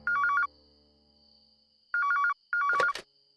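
A telephone ringing with a bright electronic ringtone: a short trilling burst, a pause, then two more bursts close together, clear and loud in a quiet room, with a brief clatter as the last ring is cut off.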